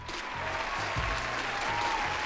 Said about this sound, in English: Kim, give her a round of applause.